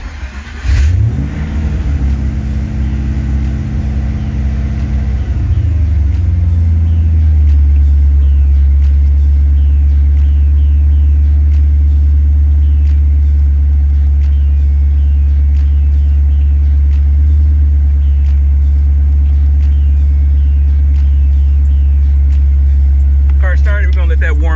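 A Ford Coyote V8 swapped into a car with a Holley Terminator X cranks and fires, settling into a loud, deep, steady idle as it warms up, close to the microphone.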